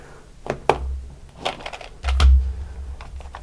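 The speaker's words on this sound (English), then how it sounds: "Okay, we're rolling the second set of dice for you," A set of nine dice rolled for a tarot reading, a couple of sharp clicks followed by a brief rattling tumble, close and fairly loud with no voices.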